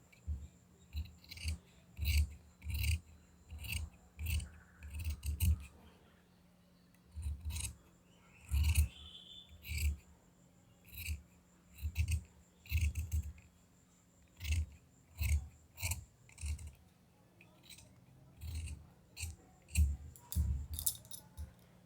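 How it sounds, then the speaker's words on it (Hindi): Scissors snip through blouse fabric in a tailoring session, a long run of sharp close crunchy cuts in irregular bursts with short pauses, fairly quiet and without talk. "अब इसे हम काट लेंगे।"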